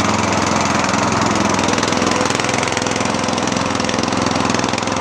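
A Murray lawn tractor engine idles steadily while warming up, a loud, close, continuous rumbling putter that holds even throughout with no talking.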